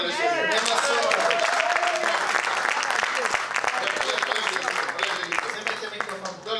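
Congregation applauding during a church worship service, a dense sustained wash of clapping from a large crowd, with singing or voices mixed in underneath throughout.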